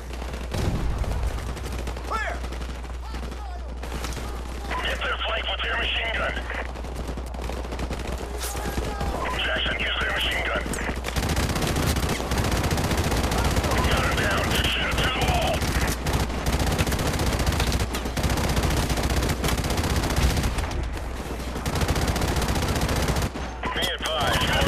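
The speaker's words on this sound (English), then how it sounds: "Lit him up with the machine gun." Rapid machine gun fire rattles through a Call of Duty 4: Modern Warfare Remastered campaign battle in the Bog, dense and loud almost without pause, with heavier volleys and explosive bursts layered over constant combat noise.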